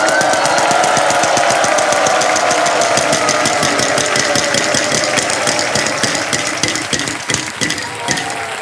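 A game show prize wheel spins with a rapid, loud clicking ratchet, its ticks slowing toward the end as the wheel winds down.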